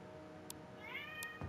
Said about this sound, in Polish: Jeżeli słyszycie w tle kota, to tak mój kot właśnie ma ochotę ze mną porozmawiać.